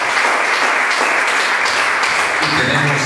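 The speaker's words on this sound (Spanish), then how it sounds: "Enviémosle un saludo a ellos en el nombre de Jesús con un aplauso." A church congregation at a Spanish-language worship service breaks into dense, loud applause, many hands clapping together continuously throughout.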